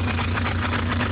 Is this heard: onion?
no